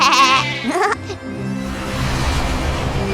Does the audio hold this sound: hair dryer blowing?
no